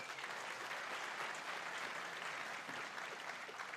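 An audience applauds at an evening talk, a dense, steady wash of clapping that holds at even loudness through the whole stretch.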